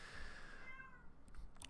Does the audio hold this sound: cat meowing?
yes